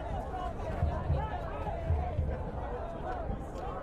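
Large crowd gathered at a No Kings protest in San Diego, a steady dense hubbub of many voices and chatter with occasional louder swells, continuous throughout.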